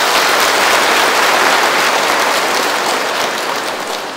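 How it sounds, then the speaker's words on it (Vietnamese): A parish congregation at the Easter Vigil night Mass gives a loud, long round of applause, dense and steady throughout, easing slightly toward the end. "chúng ta cùng mừng lễ nhau bằng một tràng pháo tay thật toàn giá"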